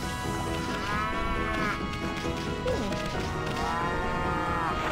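Cows in the Okami video game at Ryoshima Coast, two drawn-out moos a few seconds apart over busy game music and ambience.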